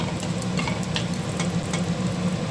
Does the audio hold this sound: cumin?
yes